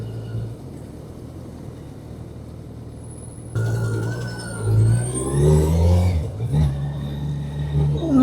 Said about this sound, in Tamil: சாட்டர்டே கூட டிராஃபிக்காக தான் போகுது.